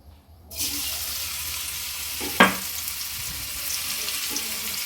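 Ginger garlic paste hits hot oil in a pan of fried paneer for restaurant-style chilli paneer. A hiss starts suddenly after a brief quiet, with a sharp crackle soon after, then a steady sizzle holds without talk.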